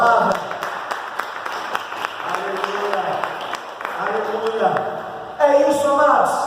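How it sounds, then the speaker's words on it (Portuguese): Church congregation gives scattered applause during a service, with sparse claps sounding under a voice that keeps talking over them and grows louder near the end. "Você pode aplaudir ao Deus da palavra?"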